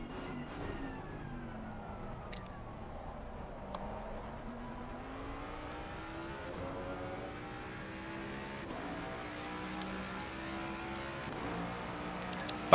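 Onboard engine of a Ford Mustang GT3 race car at Donington Park in Assetto Corsa Competizione, with a sustained tone rising and falling through gear changes, steady and moderately loud, no talking.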